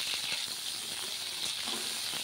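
Pointed gourd (potol) frying with turmeric in hot oil, a steady soft sizzle with faint crackles and spits, close and continuous.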